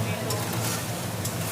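Spice paste of cumin, ginger, green chilli and tomato fries in a pan, a dense close sizzle with soft stirring scrapes under a speaking voice.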